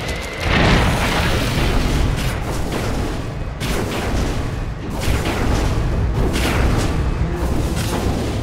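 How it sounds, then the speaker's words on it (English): Heavy explosions and impacts pound a Dota 2 tower under attack, a dense, loud barrage of booms and bursts that keeps going with several sharper hits. "Dire's bottom tower is under attack."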